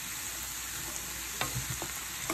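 Pork chops seasoned with chili powder and cayenne sizzling in a frying pan, a steady close hiss with a few soft bumps and scrapes of stirring, no talking.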